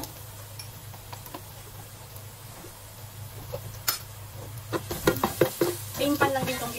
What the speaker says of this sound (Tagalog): Magigisa ako ng garlic, onion.